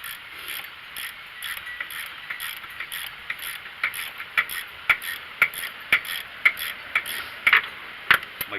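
Long-handle Pittsburgh ratchet clicking in a steady run of sharp ticks that grow louder and more distinct toward the end, heard alone during rear brake work on a Mercedes E430 W210.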